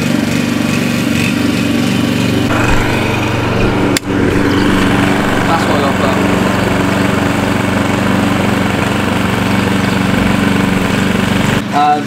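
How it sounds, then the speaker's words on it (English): A small engine drones steadily and loudly throughout, like a lawn mower running close by, with a brief dip in the noise partway through. "I've got the old man doing the lawnmower."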